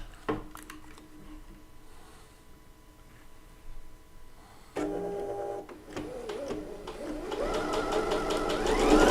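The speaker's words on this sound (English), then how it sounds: "let's just do our straight stitch." Bernette B79 sewing machine running a straight stitch, quiet clicks and handling at first, then a rising mechanical whir that grows louder and steadier toward the end.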